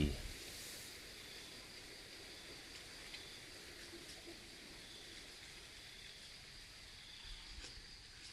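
Soft, steady rain hisses throughout, a faint even patter with no voices.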